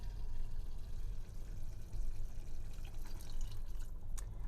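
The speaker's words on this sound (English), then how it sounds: "So now we're going to add the coconut milk." Coconut milk pours into a pot of cooked bottle gourd (lauki) curry, giving a steady liquid splashing and dribbling that runs continuously at moderate level, with a few sharper drips near the end and no talk.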